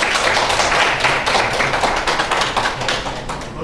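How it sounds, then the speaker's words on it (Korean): Steady, dense clapping fills a seminar room at an Ubuntu translation talk as the audience welcomes the speaker, an even wash of many hands nearby with no talking. "우리 박수를 한번 청해 드릴게요"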